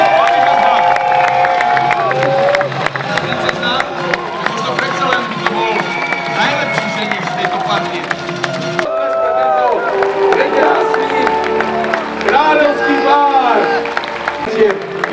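A large outdoor crowd at a knights' tournament at a castle grounds claps and cheers continuously, loud and close, with shouts and whistles rising over it and voices mixed in throughout.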